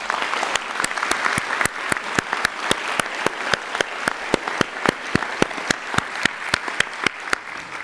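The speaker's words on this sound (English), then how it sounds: "please join me in a round of applause for these outstanding students" At an honors convocation, an audience applauds outstanding students in a sustained, even round of clapping, with one nearby clapper's sharp, regular claps standing out above the steady crowd patter throughout.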